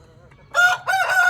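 A rooster on a free-range poultry farm crows loudly and close by, in two bursts after a quiet start, with no talking.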